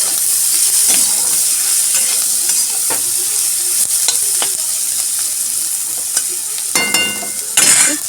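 Pasta fries in a pan with a steady, loud sizzle while a utensil scrapes and stirs now and then, with clattering clinks near the end.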